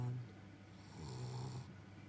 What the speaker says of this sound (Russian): Если что, храплю вовсе не я, а кабан.